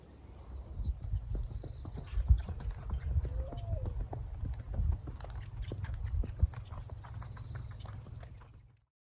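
Hooves of a Rocky Mountain Horse clip-clop steadily in a quick, even gaiting rhythm, moderately close and continuous, with a brief high whinny-like sound partway through and light outdoor ambience.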